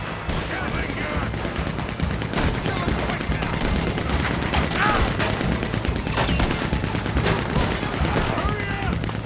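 A Gatling gun firing in the video game Red Dead Redemption 2 during a bank shootout, a dense, continuous roar of rapid gunfire with scattered shouting voices mixed into the din.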